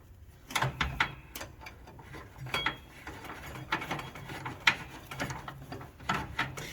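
Close ratcheting clicks and metallic taps as a bolt is tightened on the steering assembly of a Craftsman riding mower, a quick irregular run of clicks with short pauses between bursts.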